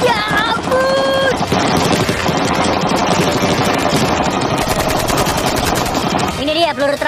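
Sustained gunfire, bullets sprayed at a Lamborghini, rattles loud and dense for most of the stretch, with brief excited voices near the start and end.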